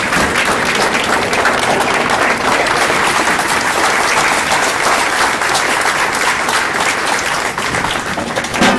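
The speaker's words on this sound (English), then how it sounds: "Could we all please stand up and give him a round of" A banquet audience at an NAACP annual celebration gives a dense, sustained round of applause, loud and close, with many hands clapping continuously throughout.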